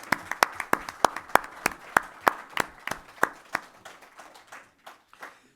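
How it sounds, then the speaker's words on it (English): Audience at a book discussion gathering claps for an ambassador, a sparse set of distinct, fairly close handclaps in a loose rhythm that thins out and fades after about four seconds. "please request you to join me in applause for Ambassador"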